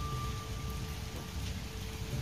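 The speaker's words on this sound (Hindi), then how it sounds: "बारिश लगी है कितना खूबसूरत सीन है" Heavy rain pours steadily in Kashmir, a dense, unbroken hiss of drops striking surfaces close by, with a low rumble underneath and no voices.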